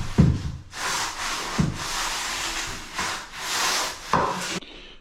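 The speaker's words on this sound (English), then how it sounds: "Get your sponge, clean your joint." A sponge rubs grout from bathroom floor tile joints in steady broadband wiping strokes, close and loud, with a few short knocks between passes and no talk.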